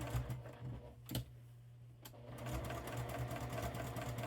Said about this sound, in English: now I'm just going to do some top stitching